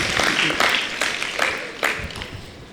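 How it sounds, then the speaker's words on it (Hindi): An audience in a religious discourse hall claps in a steady rhythm, broad bursts of applause landing about every half second over a dense, continuous patter of hands. "अरे ताली बजाओ ना आप सब"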